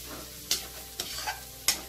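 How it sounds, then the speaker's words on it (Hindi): Ginger garlic paste sautés in a pan, a soft close sizzle punctuated by three sharp scraping clicks of a spoon against the pan. "अब मैं जो अदरक और गार्लिक का पेस्ट है उसे थोड़ा भून लिया"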